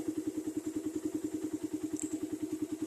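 Motorcycle engine idling at about 1250 RPM, a steady, even chug of regular low pulses, close and fairly quiet, with no talk over it.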